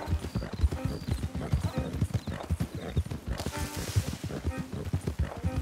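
Steady clip-clop of video game horse hooves walking at a relaxed pace, close by, with a brief whinny and faint voices in the background.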